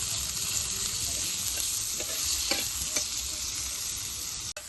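Tomatoes roasting in a pan for chicken curry, giving a continuous close sizzle with a few soft scrapes of stirring, ending in a sharp click.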